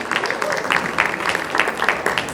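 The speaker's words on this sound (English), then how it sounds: "Please welcome with a big applause" Audience applause at an awards ceremony welcomes a speaker to the stage, a dense, steady patter of many hands clapping at close range for a couple of seconds.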